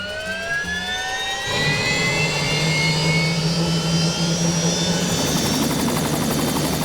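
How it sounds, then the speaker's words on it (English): Sky 5, a television news helicopter in Tennessee, heard close and loud: a whining turbine rises in pitch while a steady rotor drone builds and holds, with no voices. "The only news helicopter in Tennessee."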